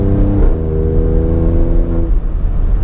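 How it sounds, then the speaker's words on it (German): A 510 hp Alfa Romeo Stelvio Quadrifoglio accelerates, its exhaust giving a loud, deep, droning growl. The pitch climbs steadily, then the engine note drops off near the end. "Und hinten ist es einfach mega geil, was der Auspuff an Sound generiert."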